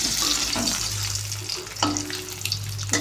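Eggs frying in a pan for an egg curry give a steady wet sizzle mixed with watery hissing and a low constant hum, with a few stirring scrapes partway through and no talking.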